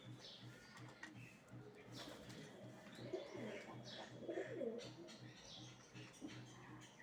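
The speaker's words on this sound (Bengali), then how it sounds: "এই কবুতরটা বাইরে থেকে আসছে" A Jalali pigeon coos softly in a store room, its low rolling calls repeating faintly amid quiet room noise, with a voice speaking at times.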